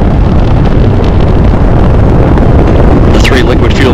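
Space Shuttle Atlantis launching from Kennedy Space Center in 2010, its three liquid-fuel main engines throttling back: a loud, continuous broadband roar with crackling rumble filling the whole clip, steady and overwhelming.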